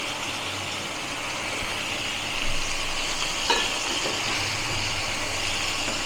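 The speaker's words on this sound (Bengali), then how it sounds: "ডাঁটা আর আলু ভেজে নেবো।" Drumsticks and thickly cut potatoes fry in a pan with onions, making a steady, moderately quiet broadband sizzle with a couple of faint clinks partway through.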